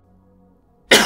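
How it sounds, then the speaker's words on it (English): A single sharp, close cough bursts out after a near-silent stretch with a faint low hum. "He paused to cough."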